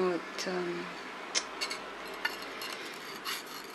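A carbon steel sashimi knife is drawn across a whetstone in soft, rasping strokes, quiet and close, punctuated by a few light clicks and taps.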